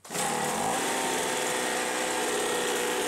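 A Ryobi chainsaw engine catches on a pull and settles into a steady, loud, buzzing run that holds without a break.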